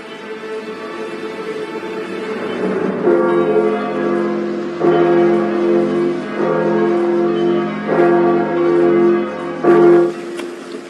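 Church bells rung to welcome a new king, a set of several bells pealing in repeated loud strokes with ringing overtones, heard alone and close.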